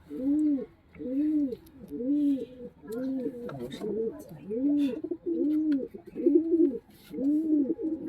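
A Pakistani high flying pigeon, a red-tailed bird, coos while being held, with about eight rhythmic, close, fairly loud coos in a steady series and soft handling rustles between them.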